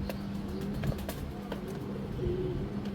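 Giribaz pigeons cooing, soft low repeated coos close by over a steady background hum, with no talking.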